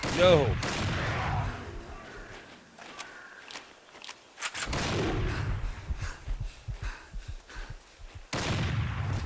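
Shotgun blasts from the hunting video game Dangerous Hunts 2011 come as a few booming shots across the stretch, mixed with rustling movement and game ambience.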